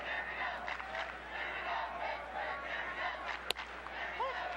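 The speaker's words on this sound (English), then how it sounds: "Boy, they still boo him every time he comes to the plate." A baseball crowd booing a batter at a Cubs at Pirates game, a sustained, loud wash of jeers from the stands with a short sharp noise partway through.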